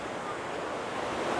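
The Mahanadi river runs in flood near a temple, producing a steady, broad rushing roar of water mixed with wind buffeting the microphone, continuous and loud throughout.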